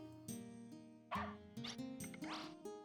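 A puppy in the retro role-playing game Wild Arms 2 gives a quick run of small, clipped barks and yips. They repeat in a bouncy rhythm over faint, steady game music.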